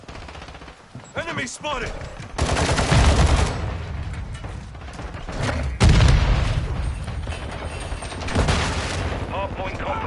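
Gunfire in the video game Modern Warfare 2, rapid automatic bursts and loud single shots in a hardpoint firefight, heavy volleys in several waves, with shouted voice callouts in between.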